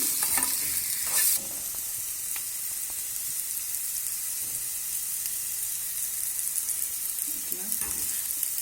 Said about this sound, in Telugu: కట్ చేసి రెడ్ కలర్ వచ్చే వరకు 1 స్పూన్ ఆయిల్ వేసి బీరకాయ పీల్ని ఇలా ఫ్రై చేయాలి.